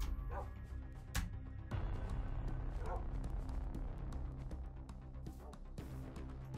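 Dogs barking in Minecraft Bedwars, scattered yips and barks mixed into a constant layer of game noise at low volume, with a few sharper hits standing out.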